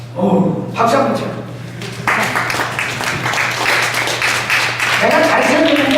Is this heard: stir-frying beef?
no